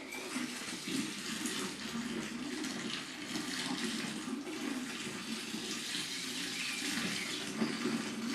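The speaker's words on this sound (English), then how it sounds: "Right, now I need to put some icy cold water in on top of that." Icy cold water pouring steadily into a home-brewed beer wort, a continuous close rushing and splashing stream that runs unbroken and fairly loud throughout with no talking.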